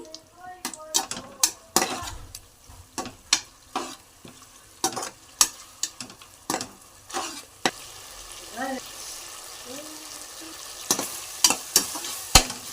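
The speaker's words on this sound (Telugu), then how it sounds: "కొద్దిగా కొత్తిమీర వేసుకుందాం వేసుకొని టమాటాలు బాగా మగ్గేదాకా ఫ్రై చేసుకోవాలి" Tomatoes and coriander fry in a pan for a farm-chicken dish while a metal spoon stirs them, with sharp clanks and scrapes against the pan recurring every half-second or so over a soft, faint sizzle.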